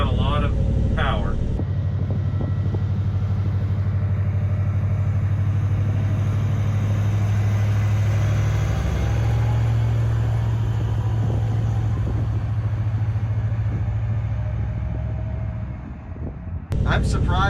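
A giant mining vehicle's engine drones loud and steady as it drives off under throttle, with a deep rumble that shifts pitch midway and fades slightly at the close. A voice talks over it.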